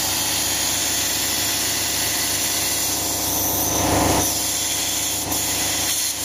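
A small model engine runs continuously as a loud, buzzing drone, and its speed rises and falls with a brief surge partway through. No one speaks.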